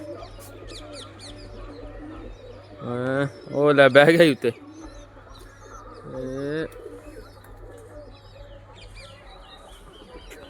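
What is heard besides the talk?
pigeons cooing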